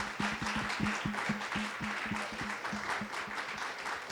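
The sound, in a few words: audience applause for panelists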